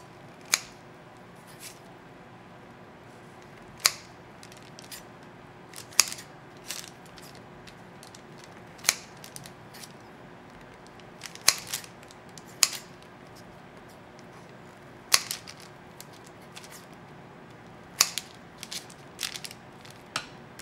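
Scissors snip through sausage bread dough, giving sharp, separate cuts at an uneven pace of roughly one every second or two, close and fairly quiet in a still kitchen.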